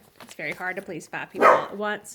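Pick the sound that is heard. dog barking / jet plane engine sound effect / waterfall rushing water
dog barking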